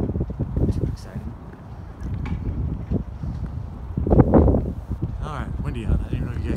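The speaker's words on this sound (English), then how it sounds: "All right, windy out." Wind buffets a microphone outdoors in gusty, uneven bursts of low rumble under and between a person talking.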